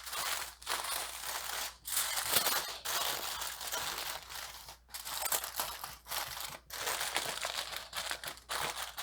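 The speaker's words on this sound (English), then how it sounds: "And then I will make a packet with the foil." Aluminium foil crinkles and crumples up close as it is folded and sealed into a packet around a butter-topped sandwich with apples, a steady run of crisp rustling broken by brief pauses.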